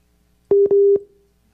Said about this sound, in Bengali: আপনার ফোনে কল আসছে, ওইটা কাটলে আবার ক্লিয়ার হয়ে যাবে